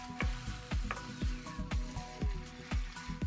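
Curry leaves go into a pot of cooking green pea dal, giving a steady moderate sizzle broken by regular soft popping bursts about twice a second.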